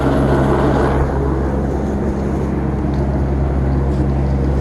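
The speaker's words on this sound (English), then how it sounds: "Fucking kind of annoying to have a helicopter." A helicopter hovers low overhead, its steady dense rotor and engine roar filling the air continuously and loudly without letup.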